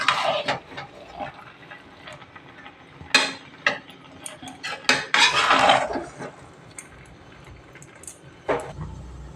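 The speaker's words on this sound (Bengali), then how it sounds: "এখন একটু ভালো করে মিলিয়ে আবার একটু ঢেকে রাখবো" A spoon clanks and scrapes inside a pot of mutton biryani in irregular bursts of metallic knocks while it is mixed, then a lid clatters on top, close and fairly loud.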